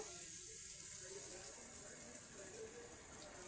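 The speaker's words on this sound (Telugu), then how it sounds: "ఇంకా దానిలో అయితే పాలైతే పోస్తున్నా నేను" Milk is poured into a bottle gourd curry as it cooks in a pan, a steady, soft liquid stream running unbroken for a few seconds.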